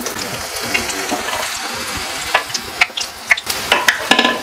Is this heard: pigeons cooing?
no